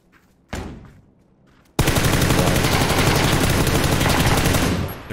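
Sustained automatic gunfire from the battle royale game PUBG, a short burst first and then a long, loud, dense stream of rapid shots close by, with no talking.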